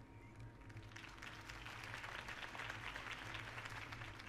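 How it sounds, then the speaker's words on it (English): A crowd applauds after a campaign speech in the video game Batman: The Telltale Series, steady clapping that swells and holds, fairly faint and without speech. "could have heard that applause"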